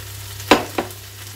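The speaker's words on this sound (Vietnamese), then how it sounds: "Một tay mình lấy cái muỗng dài hơn một chút và đôi đũa mình đảo lên." Noodles with celery stir-fried in a pan, tossed with chopsticks and a long spoon, giving two quick scraping clatters over a low steady hum.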